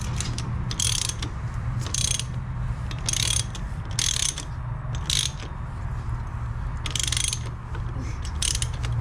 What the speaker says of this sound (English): do the final torquing on the caliper bolts